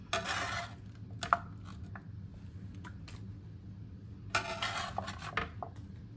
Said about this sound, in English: Next, I'm going to put in some onions